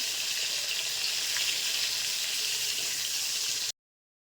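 Fish frying in a pan, cooked to a crisp, gives a dense, even sizzle that hisses steadily for nearly four seconds before cutting off abruptly.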